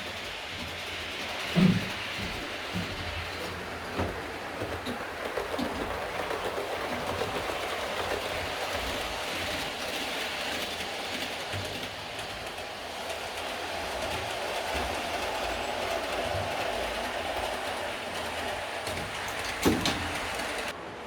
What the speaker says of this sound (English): I've just stopped those locomotives so there's a bit less noise.